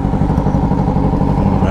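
Turbocharged Yamaha XJ6 motorcycle engine running loud and close, a steady throbbing mid-pitched drone with rhythmic clatter throughout.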